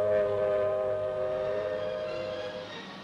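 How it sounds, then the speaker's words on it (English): Air raid sirens wailing across New York during a civil defense drill against a mock atomic attack, a steady droning tone that slowly sinks in pitch, distant and hollow like an old newsreel recording. "Then sirens sound the alarm."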